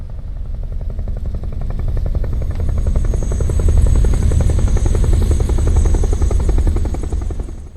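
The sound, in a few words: helicopter rotor sounds in video game Metal Gear Solid 3 Delta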